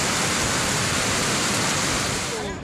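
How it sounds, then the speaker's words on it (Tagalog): Floodwater from an overflowing creek in Kabankalan City after heavy rain, a strong, steady broadband rush of fast-moving water filling the whole stretch without pause. "makita ang makusog nga dalo-do sang tubig halin sa sapa"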